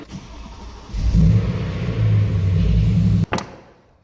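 A McLaren sports car engine fires up with a deep rumbling roar that holds a steady idle-like drone for a couple of seconds, then cuts off. A brief sharp click follows and the sound fades away, close and loud.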